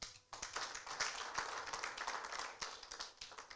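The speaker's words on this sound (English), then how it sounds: "Please, they need a hand clap." An audience at a town hall debate and youth engagement event claps hands together in a sustained burst, many overlapping claps with a few sharper individual strikes standing out, moderately loud throughout.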